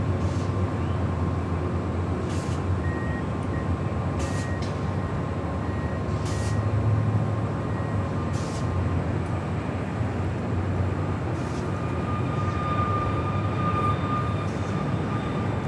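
A Delta Air Lines Boeing 767-400ER jet at Los Angeles International Airport makes a continuous, heavy engine roar and rumble that holds steady and loud throughout. It has no talk over it.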